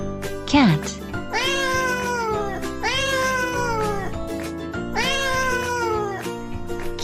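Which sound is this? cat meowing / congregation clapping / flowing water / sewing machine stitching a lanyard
cat meowing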